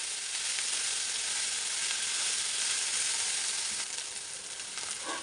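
Sliced onions fry in hot oil until light brown, a loud, steady, dense sizzling hiss with no talking.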